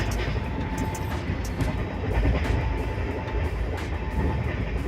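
The Bihar Sampark Kranti Superfast Express rolls toward Muzaffarpur Junction in Bihar with a loud, constant rumble and rattle from inside the carriage, and faint clicks come through from the track, with no talking.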